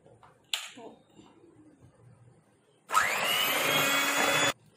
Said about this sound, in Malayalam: നമുക്കിനി 125 ഗ്രാം ബട്ടർ ഒന്ന് നന്നായിട്ട് ബീറ്റ് ചെയ്തെടുക്കണം.